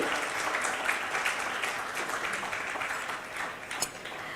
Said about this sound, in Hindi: एक बार तालियां थोड़ी जोरदार और बज जाएंगी योगी अजय राणा जी के लिए